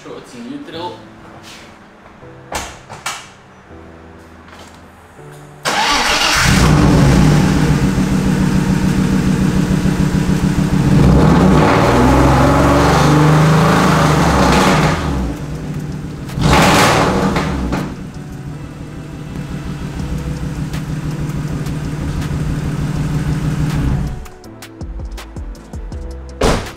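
A BMW E36 328i with an M52 engine and a straight-pipe exhaust revs loudly in neutral while suffering an engine fault, with long sustained bursts between quieter idle stretches. People talk at the start and in the gaps.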